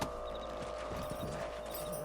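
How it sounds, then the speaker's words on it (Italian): Horse hooves clip-clop at a steady walking pace in the Red Dead Redemption video game, soft and fairly distant over a constant background ambience, with faint mechanical ticks. "Monta sul cavallo"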